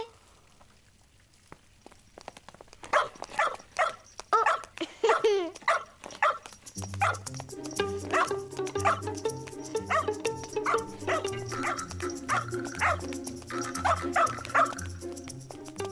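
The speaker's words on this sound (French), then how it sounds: "C'est le chien de Madame Ours Blanche!" A dog from a Petit Ours Brun cartoon barks repeatedly in short excited bursts with yips, mixed in with character voices and music.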